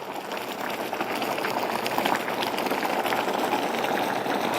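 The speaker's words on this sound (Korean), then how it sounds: "끓는 소리가 너무 요란해." A pot of Korean mallow soup with potatoes, temple-style vegetarian cooking, boils vigorously with a loud, steady, dense bubbling and hissing that fills the whole stretch without pause.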